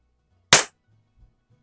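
A single sharp, close crack from a vintage Beeman P3 air pistol fired while plinking outdoors on a cold winter day, short and loud, then near silence.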